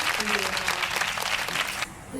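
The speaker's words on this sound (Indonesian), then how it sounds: "Tepuk tangan." A crowd claps in a dense, continuous burst of applause, loud and close, running steadily for about two seconds before cutting off abruptly.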